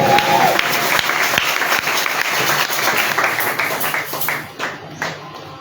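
A church congregation breaks into sustained applause, dense steady clapping from many people filling the room at close range, with scattered voices rising from the crowd before the clapping thins out toward the end.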